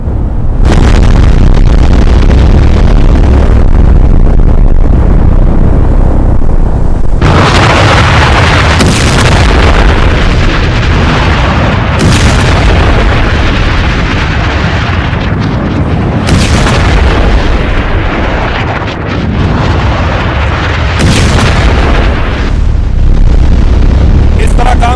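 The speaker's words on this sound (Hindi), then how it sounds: "ये तस्वीर आप देख रहे हैं, बंकर बस्टर बॉम्ब फिर दाग दिया है ट्रंप ने" Simulated bunker buster bomb blasts rumble loud and dense, a series of heavy booming explosions and roaring bursts repeating every few seconds over a continuous deep low roar, with no gaps of quiet.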